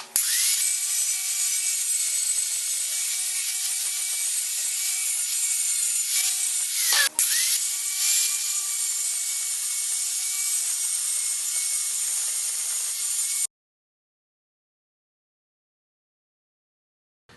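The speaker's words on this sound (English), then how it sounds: "So I'll do as much as I can with the grinder." An angle grinder bites into a metal part for a Yamaha Virago XV920 café racer build, a loud continuous high whine with a brief dip midway, then cutting off into silence.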